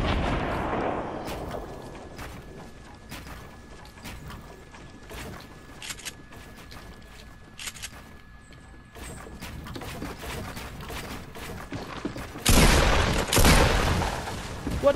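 Fortnite gunfire cracks out in scattered sharp shots over a busy game background, then swells into a loud, dense burst near the end.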